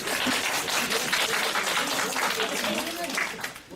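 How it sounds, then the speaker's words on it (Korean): An audience at a Catholic formation-school lecture by a priest applauds continuously, a dense crowd clapping with speech mixed in over it. "아 역시 박수 한번 해주세요."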